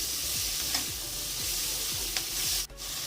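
Tomato, capsicum and peas fry in a pan for paneer fried rice, giving a constant soft sizzle. A spatula scrapes and stirs in regular strokes, with no talking.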